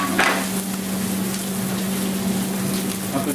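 Guinea fowl breast frying skin side down in olive oil on a hot plancha, a steady close sizzle with a low constant hum underneath, no voices.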